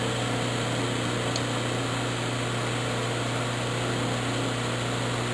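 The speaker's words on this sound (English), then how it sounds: "So that hole gets drilled at the same setting on the other side of the disc." A drill press with a digital readout bores a hole through a disc in a home workshop. The motor hums steadily and loudly throughout, a constant close drone with no distinct cutting bursts and no one speaking.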